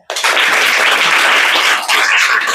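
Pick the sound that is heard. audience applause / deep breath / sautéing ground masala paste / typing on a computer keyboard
audience applause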